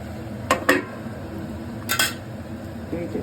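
A lid goes onto a pot of radish and cauliflower-stem chorchori, giving two close pairs of metallic clanks a second apart over a quiet background hum.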